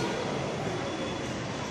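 A metro train on the green line rumbles steadily at a station platform, a continuous broad rolling drone with faint rail hiss and no clear voices.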